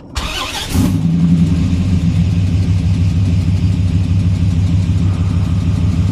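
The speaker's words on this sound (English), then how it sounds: "So we're gonna put the key in, we're gonna turn it, wait for everything to kind of load up, and I guess fire the engine" A modified 2006 Dodge Ram SRT-10 Viper truck engine cranks with a high whine, then fires into a loud, deep, steady idle rumble, close and alone.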